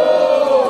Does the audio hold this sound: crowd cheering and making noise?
yes